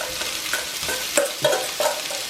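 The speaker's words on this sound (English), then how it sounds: "Then I'm going to add my shrimp in here." Shrimp frying in a curry stir fry, with soft steady sizzling and several rhythmic scraping stirs of a utensil against the pan, close and alone.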